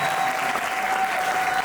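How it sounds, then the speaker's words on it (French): An audience at a slam poetry show applauds steadily, a dense continuous wash of clapping from a crowd with no pauses. "Faites un maximum d'applaudissements pour vous, mesdames et messieurs."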